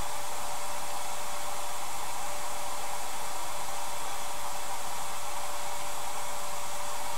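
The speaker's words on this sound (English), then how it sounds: "I am going to go ahead and blow dry this." A hair dryer blows steadily and loudly on a salt-chipping paint layer, a continuous broadband whoosh with no pauses or talk throughout.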